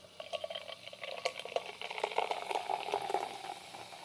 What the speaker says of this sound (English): that beer kind of gives that fizz somehow